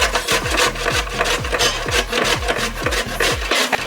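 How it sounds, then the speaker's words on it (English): Fresh cabbage, outer leaves removed, is grated by hand for sauerkraut: a steady run of quick, rhythmic rasping strokes, about three a second, close and fairly loud, with no talking. "Now we're going to wash this and grate it."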